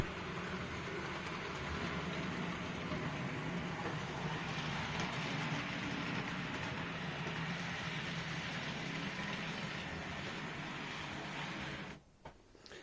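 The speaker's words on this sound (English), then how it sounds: "Tried a few of the other diesel engines and bits and pieces going up and down there as well" A model railway diesel locomotive runs along a layout, giving a steady, continuous motor hum and rumble close by that holds level for about twelve seconds and then drops off near the end, with no talking.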